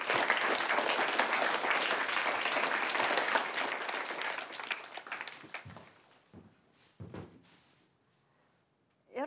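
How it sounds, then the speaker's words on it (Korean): A classroom of students applauds for a classmate's mother, a fishmonger, in a Korean drama; dense clapping fills the first five seconds, then thins into scattered claps and a few thumps before fading out. "어머니를 위해서 모두 박수."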